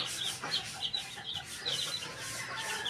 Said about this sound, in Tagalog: Ayan ang mga manok.